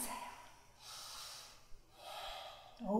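During a yoga pose, someone takes a few slow, audible breaths up close, including long airy exhales with brief pauses and a quicker nasal breath at the end.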